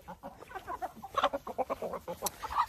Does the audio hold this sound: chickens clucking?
yes